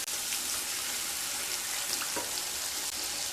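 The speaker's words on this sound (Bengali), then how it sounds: "খুব ভালোভাবে মিশিয়ে নেওয়ার পরে সামান্য জল দিয়ে দেব।" Water splashes into spice paste in a pan while Tel Koi is being cooked, a steady close hiss of pouring and sizzling that runs unbroken from start to end.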